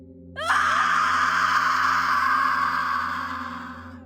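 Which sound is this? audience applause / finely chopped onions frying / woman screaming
woman screaming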